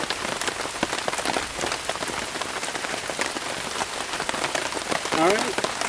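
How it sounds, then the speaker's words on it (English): Steady rain patters on an overnight campsite in Uwharrie, a dense close hiss of drops hitting surfaces that continues unbroken throughout. "You get the sound of thunder and rain."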